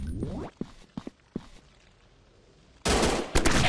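Gunfire from a 3D first-person mobile shooter, Gun Strike Shooting 3D, comes in a few short, separated shots near the start, then a loud sustained burst of rapid fire closes the moment.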